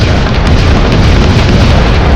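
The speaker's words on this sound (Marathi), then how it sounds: "त्याचे सारे लक्ष तोफाच्या आवाजाकडे होते एवढ्या तोफेचा आवाज" Cannon fire from a dramatized retelling of the Pavankhind battle, a loud, sustained booming roar that fills the whole stretch, dense and rumbling with no pauses and no voices over it.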